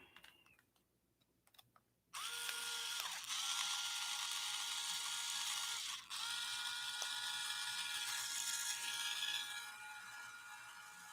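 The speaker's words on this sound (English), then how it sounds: "using the super long screw to suck up the nut so I can use the other one" A super long screw is turned to draw a nut up into place during assembly of a Prusa MMU2S multi-material upgrade, giving steady close ratcheting clicks that start after a quiet moment and run continuously with one brief pause.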